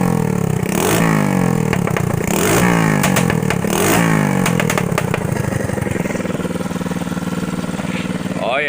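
Close, loud 110cc pit bike engine running on a homemade three-wheeler, revving repeatedly in sharp bursts with clattering mechanical noise between blips.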